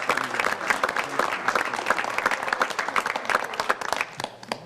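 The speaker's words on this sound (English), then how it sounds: "let's give him one more round of applause" Audience at a town council meeting breaks into steady applause, dense overlapping claps sustained throughout at moderate loudness with no clear talk.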